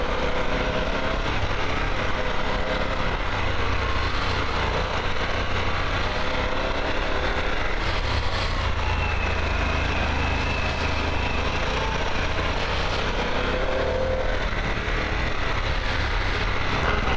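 A Harley-Davidson Pan America S motorcycle engine runs under throttle with a continuous, loud drone mixed with heavy wind rush, steady throughout with no talking.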